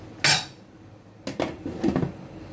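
A metal lid is set onto a cooking pot of ginataang tulingan, tuna simmering in coconut milk, with one sharp clank followed by a few lighter rattling knocks as it settles, close by with no talk.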